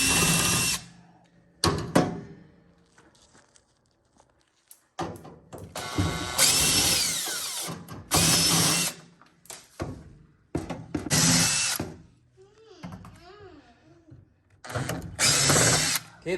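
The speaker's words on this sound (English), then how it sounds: "And if you have it connected to a drill, boy, that goes so much faster." Power drill fitted with a Phillips bit zips four screws out of the trim around a built-in microwave. Close, loud whirring comes in repeated short bursts separated by pauses, with faint rubbing and handling noises between them.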